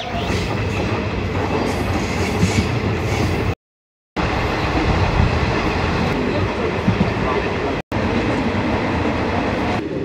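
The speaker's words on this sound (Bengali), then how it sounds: "আর বারসই জংশনে আমাদের ট্রেন এসে দাঁড়িয়েছে 2 নম্বর প্ল্যাটফর্মে।" The 15721 Paharia Express rolls at Barsoi Junction on the Kolkata to New Jalpaiguri run, with a loud, continuous rumble and rattling carriages. The noise drops out briefly twice.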